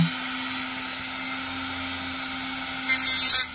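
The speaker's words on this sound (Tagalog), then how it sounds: "Tingnan natin kung mapuputol itong plastic." A Mastercraft rotary tool cutting into plastic gives a steady high motor whine with a low hum beneath. It rises into a louder, harsher grinding burst near the end as the bit bites into the plastic.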